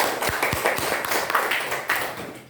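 A classroom of students clapping their hands in praise, a brief burst of loud, fairly rhythmic claps close by, carrying on as a lively scattered patter.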